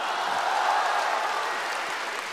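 Steady, dense applause from a live crosstalk comedy audience, loud and continuous throughout with no voices over it.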